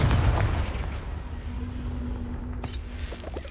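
An explosive blasting spell from Hogwarts Legacy booms at the start, then a long rumbling decay fades under a steady hum, with a sharp crack and small debris sounds near the end.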